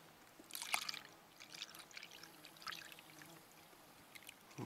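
Water poured into a garden sprayer outdoors by a lake, topping it up to about a gallon; a quiet, uneven splashing trickle with a brief louder gush near the start, fairly close.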